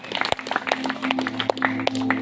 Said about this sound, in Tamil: கைத்தட்டி பாராட்டுகளை தெரிவிப்போம்.